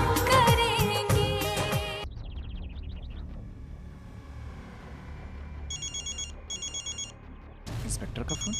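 An inspector's telephone rings, first with loud film music before it, then repeated electronic ring bursts in short pairs, clear and close, followed by a fresh swell of music.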